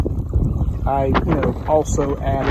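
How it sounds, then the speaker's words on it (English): Wind buffets the microphone aboard a Pelican Bass Raider 10E fishing boat on a windy day, a steady low rumble running throughout beneath a man's close, continuous talking. "sorry about the wind noise. It was quite windy earlier that day."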